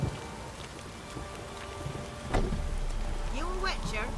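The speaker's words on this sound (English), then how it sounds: "It can rain all day long." Steady rain falls in The Witcher 3, a constant wash of drops pattering across the scene at moderate loudness with a brief louder gust midway, while a voice talks faintly underneath.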